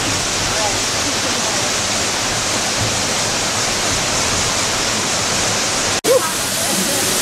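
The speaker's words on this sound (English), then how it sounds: "we're walking up to the bridge that's in front of the waterfall" Steady, loud roar of a waterfall heard from a bridge in front of it along the Columbia River, a continuous broadband rush with one brief dropout near the end.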